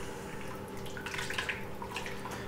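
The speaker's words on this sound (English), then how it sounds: "Okay, so we're getting some bubbles." Soft, irregular bubbling and popping from an Instant Pot cooking sweet 'n sour ribs in a kitchen, a steady low simmer with small clustered pops rising and fading near the pot.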